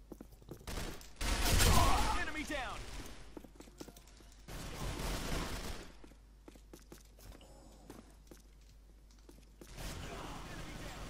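Bursts of gunfire from the Arctic Combat video game, loud clustered volleys early on and again in the middle, with quieter scattered shots and mechanical clatter between them and no one speaking.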